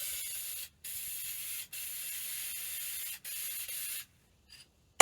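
An aerosol spray paint can hisses in several sustained bursts, each lasting about a second, separated by short pauses, while paint is sprayed into a small batch of mix for a tractor rescue ranch sign. Near and steady, with no talking.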